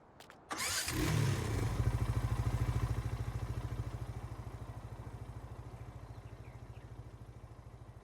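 A Mahindra tractor engine in Farming Simulator 19 cranks and catches, then settles into a loud, rhythmic, chugging idle that slowly eases in volume.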